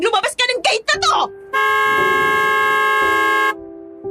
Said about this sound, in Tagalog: marinig ang malakas at mahabang busina na yon mula sa parating na isang kotse na mabilis ang takbo